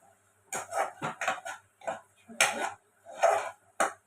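Spoon scraping and clinking against a pan while biryani masala is stirred into onions and tomatoes, several distinct strokes in an uneven rhythm, close and fairly quiet.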